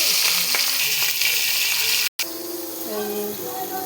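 Prawns dropped one by one into hot oil, a close crackling sizzle with a sharp break in the middle before the frying continues, with a voice faintly present.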